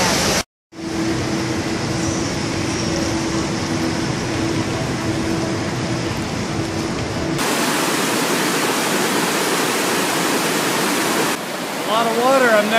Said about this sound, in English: A lot of water. I've never seen it like this before.